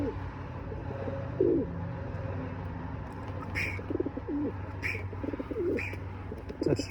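A pet bird coos repeatedly at close range, with low soft calls and a few sharp chirps over faint background hum.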